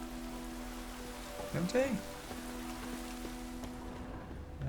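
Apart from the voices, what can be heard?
rain falling in video game The Witcher 3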